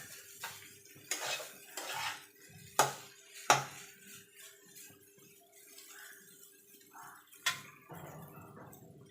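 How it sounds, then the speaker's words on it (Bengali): Egg chowmein noodles being tossed with vegetables in a pan in a Kolkata-style kitchen; sharp metallic scrapes and clinks of a utensil against the pan come in irregular bursts between quieter stirring. "এবার ভালো করে সবজির সঙ্গে চাউমিনটাকে মিশিয়ে নেব।"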